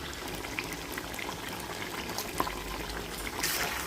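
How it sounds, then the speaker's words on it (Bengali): Water pours into a ground cashew and melon seed paste, making a soft, continuous liquid trickle and gurgle throughout, quiet and close, growing slightly fuller at the end. "এবার এটা দিয়ে একটু নাড়া দিয়ে জল ঢেলে দেবো।"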